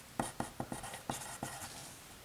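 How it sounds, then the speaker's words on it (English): Marker strokes on a classroom board while writing out a geometry proof: a run of about seven short, sharp scratchy taps, fairly close and quiet, with no talking. "This is going to take me a while to write."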